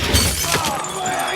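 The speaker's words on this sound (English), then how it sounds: "The ankle shattered." A film sound effect of an ankle shattering gives a short, sharp crack with a crunchy breaking texture and a brief fading tail, loud and close.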